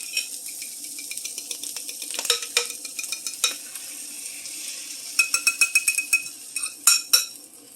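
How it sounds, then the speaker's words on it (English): Eggs being dumped into a hot skillet of breakfast potatoes, giving a bright crackling sizzle broken by repeated scraping and clinking stirs in close, irregular bursts. "Now we're going to dump the eggs in."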